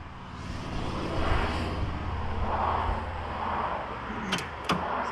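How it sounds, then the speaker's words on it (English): Steady road noise from a Jeep Wrangler being driven, a broad continuous rumble and hiss close to the mic, with a couple of short clicks near the end and no talk. "Sorry about the road noise, guys."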